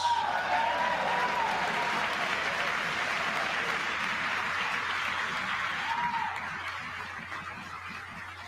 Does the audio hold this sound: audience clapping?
yes